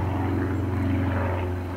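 A propeller airplane drones steadily overhead, a loud continuous engine hum with strong low tones that holds throughout without other sounds.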